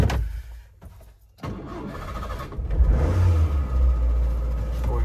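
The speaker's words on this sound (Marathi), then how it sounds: "कोल्ड स्टार्ट झालेली आहे" A car engine cold-starts during a friends' trip in Konkan: a short cranking burst, then a steady, close, low idle rumble that settles in and holds to the end.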